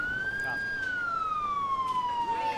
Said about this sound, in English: That siren signals time for action.